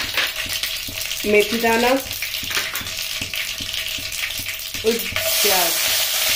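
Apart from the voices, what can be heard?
mustard seeds, cumin, curry leaves, red chillies frying in oil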